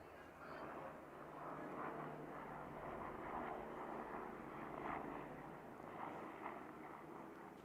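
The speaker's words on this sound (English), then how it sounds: "You can hear it in the background, the helicopter." A medical helicopter drones overhead in the background at a high school softball game, a steady broad engine rumble throughout with faint crowd noise mixed in.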